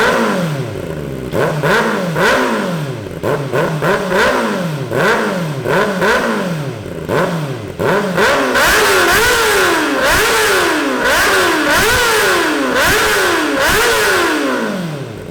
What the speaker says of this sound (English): I feel like this exhaust sounds too quiet with the baffle.